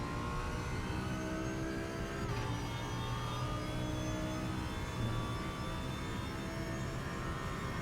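A race car engine in RaceRoom Racing Experience at the Nürburgring, a steady whining drone with rising and falling pitch through gear changes, fairly faint and continuous with no talk.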